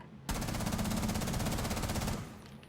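Rapid automatic gunfire from Rainbow Six Siege rattles in a loud, dense continuous burst for about two seconds, then cuts off and trails into quieter background.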